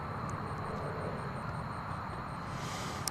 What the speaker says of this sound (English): looks like we've got flight 2998 to Las Vegas, an Airbus A321, American Airlines